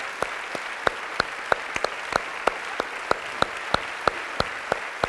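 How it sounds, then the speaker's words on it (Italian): Steady rhythmic clapping for Giorgio Farroni, a former world champion, rises from an event audience at the Evolution Forum 2016, with sharp regular claps standing out over a softer bed of applause. "L'applauso glielo facciamo per questo."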